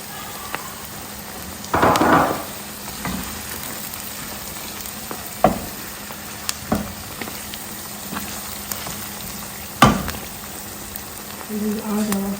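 Flaked mackerel and shredded onions sizzling in a pan for garden egg cabbage stew, a steady soft frying hiss broken by a few sharp stirring scrapes and spatters.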